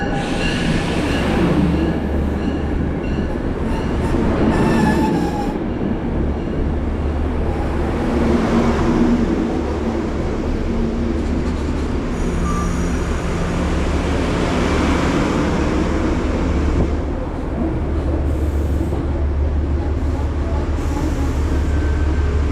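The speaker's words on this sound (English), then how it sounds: "the Penn Central Heritage Unit number 217 shoves train 1897 out of the Merritt 7 station towards South Norwalk" Penn Central heritage locomotive 217 shoves Metro-North train 1897 out of Merritt 7 station toward South Norwalk, a loud continuous diesel drone with rumbling wheels, rising and falling pitch and occasional squeals close by.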